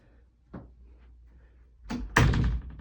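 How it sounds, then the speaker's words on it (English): An office door is closed, a soft thump at first followed by a louder, firm shutting thud near the end, close by in a quiet room. "I'm gonna close this door."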